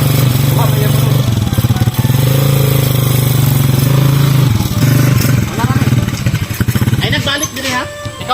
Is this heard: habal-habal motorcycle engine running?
yes